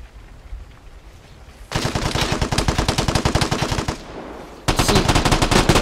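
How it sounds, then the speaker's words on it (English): Automatic weapon fire in the video game Vigor, two long rapid bursts of loud, close shots with a short pause between them, over quiet background hiss. "That first guy sounded like he was shooting the house up."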